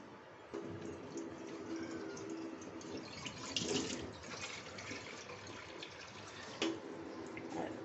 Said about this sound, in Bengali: যতটা চিনি ততটাই আমি জল দিলাম